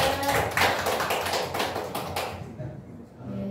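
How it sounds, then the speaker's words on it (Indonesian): A classroom group claps hands together in a dense burst of steady, rapid clapping that fades away after about two seconds. "Tepuk tangan"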